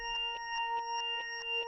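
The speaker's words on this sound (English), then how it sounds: "You can hear that like sucking sound." Reversed microKorg S synth tone with a sucking, swelling character, pulsing in quick regular beats over a steady drone, dry and clear, no speech.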